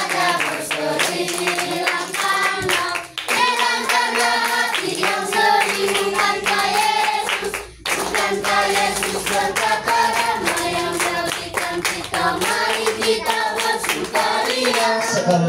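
Hands clap along in rhythm with an Indonesian worship song at a children's church fellowship, steady beats running under sung voices and music throughout, with one brief dip midway.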